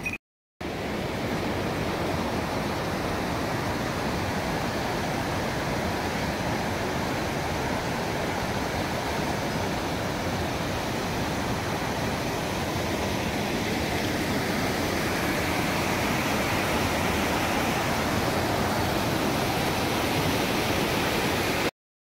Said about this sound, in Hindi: और इधर एक हल्का सा वाटरफॉल है भाई